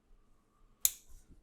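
Snipping a plastic part from a model kit sprue for a YYW-40 Volcanicus upgrade kit, a single sharp close cut standing alone in a quiet room.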